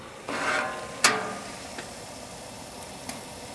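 Cod and shrimp cooking on an RV Works Cajun Bayou Broiler give off a soft, steady sizzle, broken by a couple of sharp metallic clicks and lighter taps.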